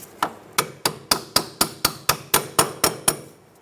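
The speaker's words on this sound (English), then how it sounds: "You can use a little hammer." A small hammer taps a strut lock into place on a 2007-2012 Nissan Altima front strut, about a dozen sharp, evenly spaced metallic knocks, close and clear with no talking.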